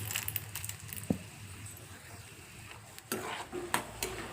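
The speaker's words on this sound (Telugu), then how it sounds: "ఆయిల్ పోసుకున్న తర్వాత అది హీట్ ఎక్కిన తర్వాత కొన్ని వేరుశనగలు అయితే వేసుకోవాలి. తర్వాత కొంచెం వెల్లుల్లిపాయలు, కొంచెం శనగపప్పు," Peanuts, garlic and chana dal frying in hot oil in a kadai, a faint steady sizzle broken by occasional metallic clinks and scrapes of stirring, with quieter, sparser stirs in the middle.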